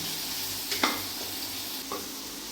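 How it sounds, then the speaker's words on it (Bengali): Onions frying in oil in a pan with bay leaf and chilli, a soft, steady sizzle broken by two or three brief scraping stirs, fairly quiet and close. "পেঁয়াজগুলি ভাজা শেষ"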